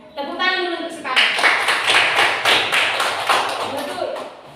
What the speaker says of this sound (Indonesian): Tepuk tangan dulu untuk sekarang.